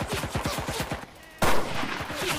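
A sniper fight in the video game Cuisine Royale: rapid bursts of loud gunfire, a brief pause, then a louder burst of shots.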